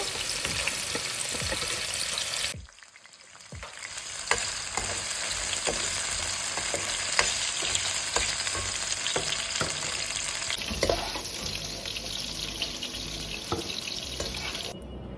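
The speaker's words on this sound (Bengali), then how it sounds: "আলুটা আমি একটু ভেজে নিব হালকা একটু লাল করে ভেজে নিব" Small chunks of potato fry in hot oil with a dense, steady sizzle that cuts out briefly near the start, then carries on with scrape-like stirring and a watery hiss, close and loud with no voices.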